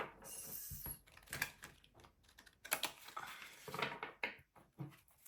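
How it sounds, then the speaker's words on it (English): Tarot cards shuffled by hand in short irregular bursts, crisp papery riffles and taps close to the microphone with brief pauses between them, no voices. "So I'm just shuffling a little bit of your cards."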